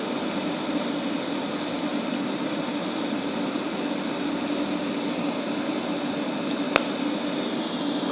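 A Harbor Freight TIG welder lays down a bead with a steady, even hiss that runs loud and unbroken, with only a couple of faint ticks near the end.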